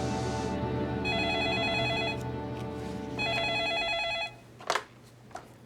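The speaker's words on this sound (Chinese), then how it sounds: "我马上去打电话给老板周大姐。" Two bursts of an electronic telephone ring, each about a second long, sound clearly over a steady low background hum in a Hakka television drama scene. A couple of brief knocks follow after the ringing stops.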